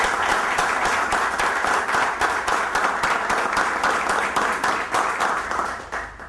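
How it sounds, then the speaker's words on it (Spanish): Applause at a municipal council session, with a roomful of people clapping steadily for about six seconds and some rhythmic, unison beats, fading slightly at the end. "pedir un aplauso para los miembros de la Gerencia de Desarrollo Humano por este galardón obtenido"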